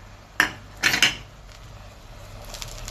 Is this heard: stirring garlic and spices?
yes